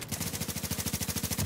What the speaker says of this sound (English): Marcus starts shooting first